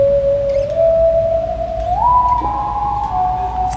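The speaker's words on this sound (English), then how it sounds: "There's Eventide here, which is a really kind of synthy sounding pedal." An Eventide guitar effects pedal gives off a sustained, theremin-like synth tone that holds steady, then glides upward in pitch partway through, sounding loud and close with no talking.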